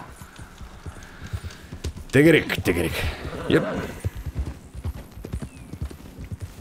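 Horse hooves clip-clop steadily on the ground in Red Dead Redemption 2, with a horse's brief whinny in the middle while someone talks over the rhythmic steps.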